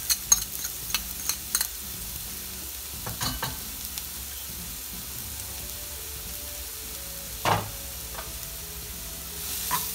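Chopped onion and five cloves of garlic frying together in a pan, heard as a soft, low sizzle with intermittent stirring scrapes and clicks throughout, fairly quiet and close with no talking.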